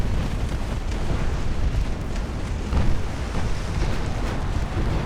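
Eight-inch battleship guns fire in the naval warfare game Ultimate Admiral: Dreadnoughts, with deep booming blasts rolling one into another over a constant heavy low rumble, loud and dense throughout with no voices.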